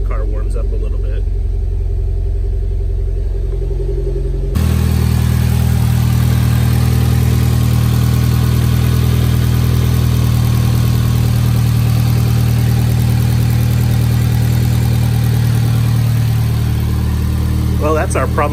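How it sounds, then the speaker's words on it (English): A Mitsubishi Evo X engine idles while warming up during fuel-system troubleshooting, running rich with high fuel pressure; a loud, steady low rumble jumps up partway through and holds constant to the end. "Let's see if it steadies out as the car warms up a little bit."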